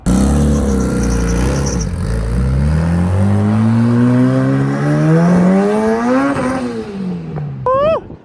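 The Pink Widow drag race car at the track, its engine roaring loud and close, revving and climbing steadily in pitch through the gears before dropping off, with a sharp whine at the end.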